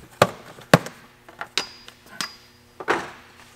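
A plastic kick panel is pried and pulled off a car interior during an oversized tire fitment and body mount relocation, giving a series of sharp, close clicks and snaps spaced irregularly, with no talking.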